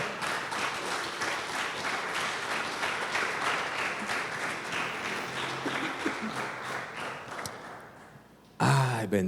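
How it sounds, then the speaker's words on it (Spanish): Church congregation applauding at a worship service, dense sustained clapping with scattered voices, fading slightly before a brief louder burst near the end. "Dele palmas al Señor"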